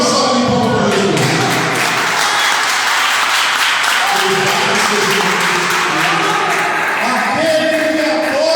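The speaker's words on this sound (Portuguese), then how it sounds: "Dê uma salva de palmas para Jesus." A church congregation claps loudly during a sermon, a dense, sustained roar of applause filling the room, with a few voices and thumps mixed in beneath the continuous clapping.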